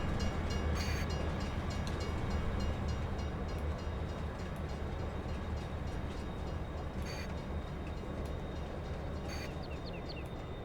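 Freight train in Farming Simulator 22 rumbling steadily with a broad, continuous low roar, with faint higher clanks and squeals surfacing briefly over the constant rolling noise.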